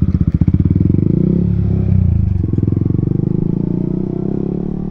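A Yamaha R15M motorcycle's engine runs with a steady, rapid, rumbling pulse close by, rising and falling slightly in pitch as it is ridden, loud and continuous.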